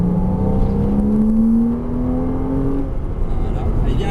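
A Porsche Cayman S engine climbs steadily under acceleration, its pitch rising smoothly for a few seconds, then settles into a lower drone with a low rumble, heard from inside the car.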